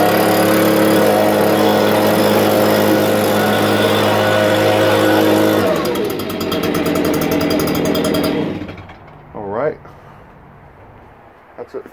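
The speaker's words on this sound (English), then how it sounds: "All of these blowers are easy to start," A Stihl gas leaf blower engine runs at a loud, steady roar, then drops off partway through and fades out, leaving a few faint sounds near the end.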